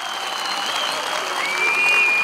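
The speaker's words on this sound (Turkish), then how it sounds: "yürekten alkışlayın şimdi kendinizi" Dense, steady applause from a large crowd at an outdoor CHP political rally in Tekirdağ, a continuous wash of clapping that swells slightly toward the end, with a faint whistle or tone over it.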